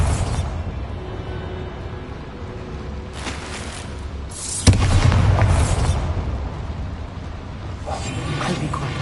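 A Bombarda spell in Hogwarts Legacy, cast inside a small mine, goes off as a sudden deep boom with a sharp crack, then a rumbling tail over a busy game soundscape.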